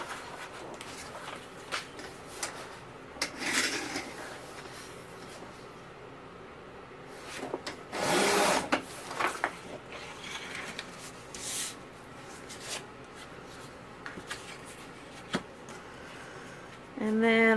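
A 12 by 12 inch sheet of cardstock being cut for a scrapbook cover and spine, heard as close mechanical sliding and clicking from a paper trimmer, with louder scraping bursts amid quiet room noise.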